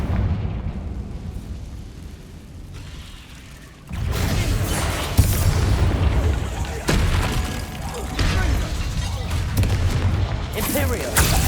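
Confringo fire spells explode in the Hogwarts Legacy video game, bringing loud booming blasts and crackling, shattering debris that swell into dense continuous battle noise after a quieter opening, with voices heard amid the action.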